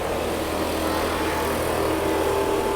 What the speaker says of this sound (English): I'm really sorry about the leaf blower.